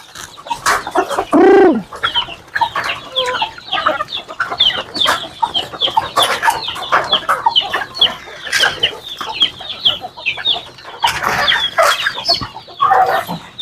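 Chicks and chickens cluck and cheep close by in a busy, continuous flurry, with one brief louder call near the start and no talking.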